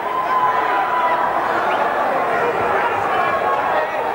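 Spectators at a 1987 boxing match, Troy Dorsey against Felipe Garcia, fill the arena with a constant, loud wash of chatter and yelling that never lets up.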